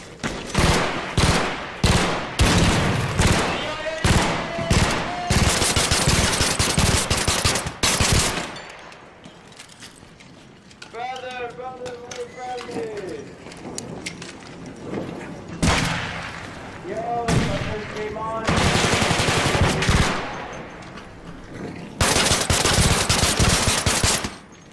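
Gunfire in the video game Arc Raiders comes in rapid automatic bursts and single loud shots, with a quieter pause in the middle filled with game effects, then heavy firing that resumes toward the end.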